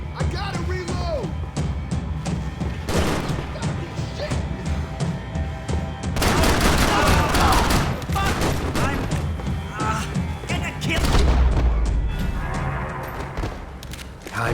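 Heavy gunfire from the shooter game Max Payne 3, with dense fusillades, bursts and booming impacts filling the mix, swelling louder in the middle and again near the end, while voices shout over the chaotic battle.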